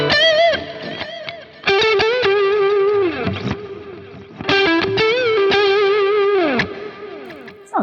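Electric guitar through a Behringer TO800 Vintage Tube Overdrive pedal plays sustained chords and bends in two long phrases, with a warm, gritty crunch and slight chorus-like shimmer, no talking.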